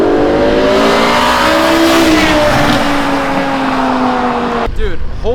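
A BMW M6 with a V10 engine revs hard and high while driving down a street, a loud rising wail through the gears with a shift near the end, and voices in the background.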